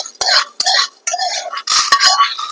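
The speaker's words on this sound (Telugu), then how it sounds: "దోరగా వేగినాయి కదా కుసుమలు తీసేసి ప్లేట్లో పెట్టుకుంటాం" Roasted safflower seeds scraped and scooped from a hot pan onto a plate, a run of loud, close, gritty metallic scrapes and rattles in several bursts.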